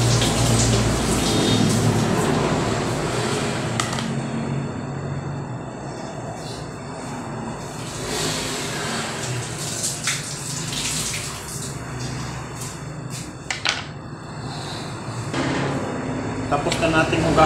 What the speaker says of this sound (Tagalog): Tapos na natin hugasan yung kamatis